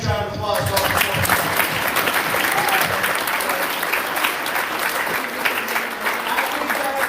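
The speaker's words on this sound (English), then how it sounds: "How about a huge round of applause for all the performers?" Dense, steady applause from a school assembly audience for the stage performers, a loud continuous wash of many hands clapping with a few scattered shouts, sustained evenly to the end.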